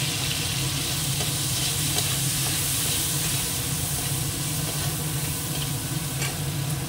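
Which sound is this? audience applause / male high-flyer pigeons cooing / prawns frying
prawns frying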